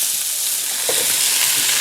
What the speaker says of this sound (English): now that our bacon is sizzling, we're going to add in our onions